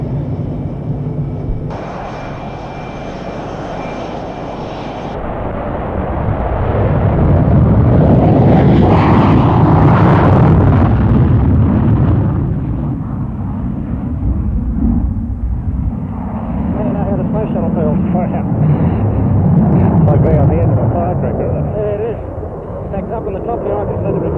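An F-18 fighter jet's engines roar loudly, swelling to a broad, sustained rumble that holds throughout, with someone talking over parts of it.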